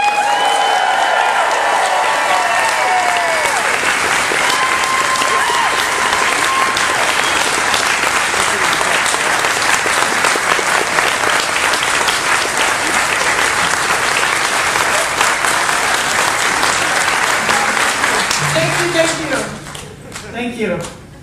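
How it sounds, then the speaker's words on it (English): A cruise-ship concert audience at a cello performance bursts into loud, sustained applause and cheering that fills the room throughout, then thins out and fades near the end, with a voice briefly heard. "Everybody keep clapping while she's talking."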